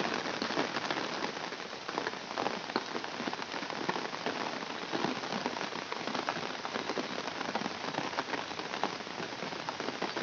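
Steady evening rain pattering on and around an umbrella, a dense continuous hiss of drops, close and even throughout with no voices.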